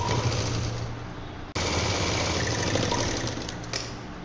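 A sewing machine stitches a cloth shoulder bag in a dense, rapid mechanical whirr, pausing briefly midway and then resuming steadily at close range, with no voices.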